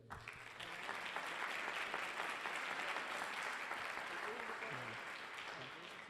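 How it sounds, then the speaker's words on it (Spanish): A large audience applauds steadily at a Spanish-language panel discussion on C. S. Lewis, dense sustained clapping filling the room for several seconds, with faint voices beneath. "También le damos un fuerte aplauso."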